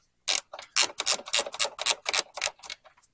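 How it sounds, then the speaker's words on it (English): A slick ratcheting wrench clicks in a quick run of about a dozen sharp, close ratchet bursts with brief gaps between them, loud and crisp with no talking. "I've got this pretty slick ratcheting wrench here"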